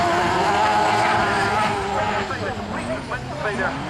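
An autograss race car brakes hard on a dirt track at Castle Combe, its loud engine roaring close by and shifting pitch as it slows, with commentary heard over it.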